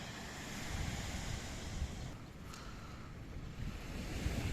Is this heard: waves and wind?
yes